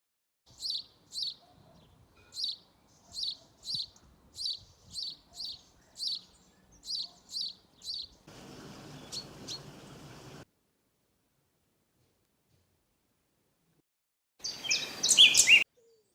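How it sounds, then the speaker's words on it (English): Garden birds call with a regular series of high, paired chirps repeated about a dozen times, followed by a stretch of faint rustling hiss and a final brief noisy burst, close and otherwise quiet. "Have a look at some of the pictures and videos of the birds in our garden."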